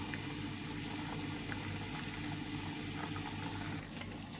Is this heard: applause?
no